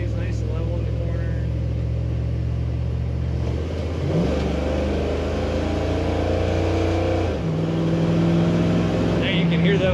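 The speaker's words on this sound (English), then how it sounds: "Now you can hear that awesome exhaust note when you put your foot down." A 1954 Chevrolet 3100 street rod pickup pulls away under throttle, its deep exhaust note rising through several gear-like steps, loud and close from inside the cab, with a brief dip and surge midway.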